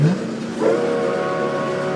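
A train whistle in the Roblox driving game Greenville sounds as a rising, steady tonal blast over a constant loud background of vehicle and engine noise.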